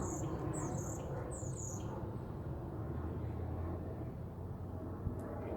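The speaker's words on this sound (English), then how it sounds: "there are birds" Birds call outdoors, a few squawks and chirps bunched in the first two seconds, set against a steady wash of outdoor background noise with no speech.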